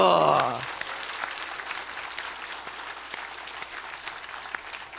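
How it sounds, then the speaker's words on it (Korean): A church congregation at a Sunday service applauds with steady, even clapping from many hands filling the room, starting right after a short voice and holding at a moderate level throughout. "격려의 박수."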